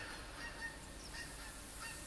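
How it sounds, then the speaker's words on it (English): Geese honk faintly in response to a goose caller while hunting in theHunter Classic, a few distant calls over a quiet outdoor background. "So I'm going to call these geese"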